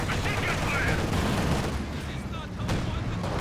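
Machine gun fire in Company of Heroes 2 rattles along steadily among other battle noise, a fairly quiet mix of chattering bursts and distant blasts, with a commentator's voice running underneath.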